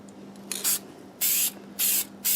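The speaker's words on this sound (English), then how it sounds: "So I will just spray this, rotate," Four short bursts of aerosol lacquer spray hiss close by onto a black locust bowl on the lathe, separated by brief pauses, with a faint steady hum underneath.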